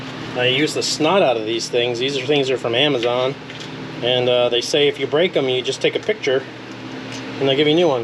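An electric fan runs in a garage, a steady broadband whoosh held constantly in the background beneath someone talking loudly and almost continuously nearby.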